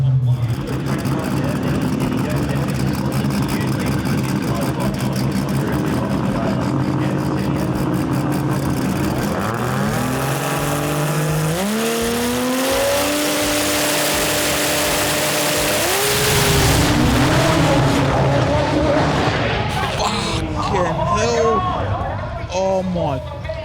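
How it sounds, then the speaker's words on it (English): Car doing a burnout at the Sydney Jamboree with Frank Tarabay at the wheel, a loud sustained engine roar that rises and falls through revs amid a noisy crowd babble, with people talking and exclaiming close by. "Frank Tarabay always willing to do a nice burnout."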